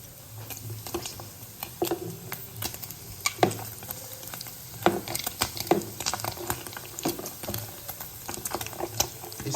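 Sheep tail fat frying on low heat in a covered pan gives a soft crackling sizzle with scattered pops and spits, close and fairly quiet, with no talking.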